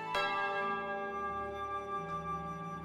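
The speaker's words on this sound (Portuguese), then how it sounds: "Toca o sino, sacristão." A church bell is struck once by a sacristan during a novena service, a sharp clang followed by a long, ringing harmonic decay that fades slowly, fairly close and alone.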